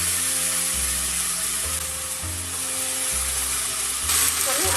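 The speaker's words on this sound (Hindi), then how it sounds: "अदरक और हरी मिर्च 2 मिनट सौटे करना है" Ginger and green chili paste sautéing in a pan over low to medium flame with a pinch of asafoetida, a steady close sizzle with a low background hum running throughout.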